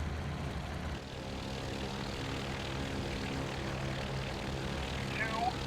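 Steady propeller aircraft engine drone from the IL-2 1946 flight game at reduced throttle, a continuous even hum held throughout with a brief tonal sweep near the end.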